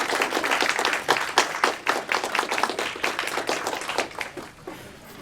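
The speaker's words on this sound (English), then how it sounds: "please stand for a round of applause for putting together this terrific event" An audience at a college evening event gives a round of applause, distinct individual hand claps in a fairly sparse, rhythmic patter that eases off near the end.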